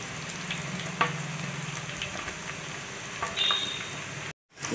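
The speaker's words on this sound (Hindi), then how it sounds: "ये फ्राई हो जो हो रहा है हमारा अदरक लहसुन जो हमने डाला है इसमें हरी मिर्च।" Chopped ginger, garlic and green chillies frying in hot oil for a South Indian fish curry, a steady close crackling sizzle with a few louder pops, cut off briefly near the end.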